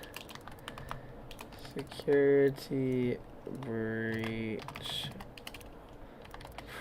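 Clicky typing on a new computer keyboard, a run of quick keystrokes going on under talk and a loud burst of harmonic sound.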